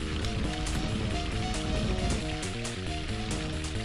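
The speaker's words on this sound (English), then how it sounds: "It's raining. Look at them pixels that denote rain. And that sound effect." Steady rain hissing and pattering without pause in the DOS video game Terra Nova, dense and even like water running or sizzling, with no voices.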